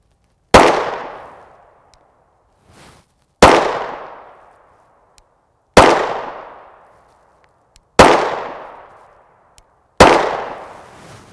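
Five sharp 9mm gunshots from 115-grain Samson/IMI black-tip FMJ rounds crack out at a steady interval of about two seconds, each loud and close with a ringing decay, and a faint metallic tink between shots.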